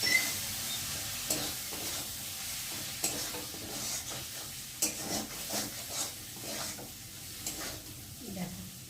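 Pasta with a little soy sauce being stirred in a frying pan, with steady sizzling and repeated scraping and clattering strokes of the spoon against the pan.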